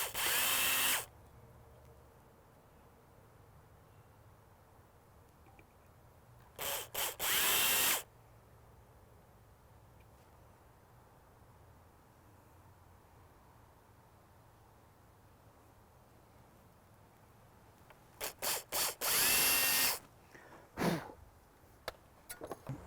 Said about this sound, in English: Just a little starter hole for our screws.